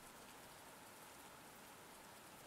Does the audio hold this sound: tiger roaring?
no